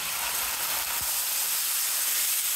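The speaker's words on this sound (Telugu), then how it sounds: "1/2 గ్లాసు నీళ్లు పోద్దాం." Water poured into a hot tempering of curry leaves and asafoetida sizzles loudly, a steady broad hiss close by that holds for the whole moment with no voices.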